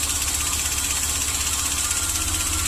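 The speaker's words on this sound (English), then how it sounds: "I hear a slight pop every once in a while at the tailpipe." Chevy Express van engine idling with a steady, even rumble and faint rhythmic pulsing, close and continuous, with no distinct tailpipe pop standing out.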